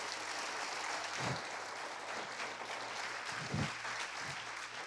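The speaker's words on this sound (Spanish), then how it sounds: "Dele ese aplauso al Señor," Congregation applause at a church service, a broad steady wash of many hands clapping that fills the whole stretch at moderate distance, with no talk over it.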